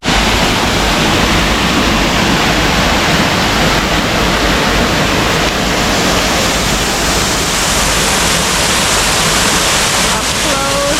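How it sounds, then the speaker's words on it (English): Waterfall at Crocoparc in Agadir heard up close as a loud, continuous roar of falling water that stays steady and dense throughout, with no talking. "Up close, the view of the waterfall."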